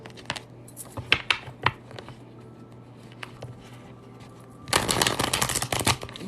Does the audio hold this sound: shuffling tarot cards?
yes